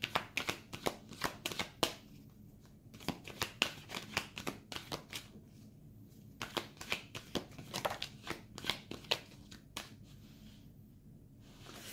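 Tarot cards are shuffled by hand for a reading in quiet, close bursts of crisp riffling and slapping, with short pauses between handfuls.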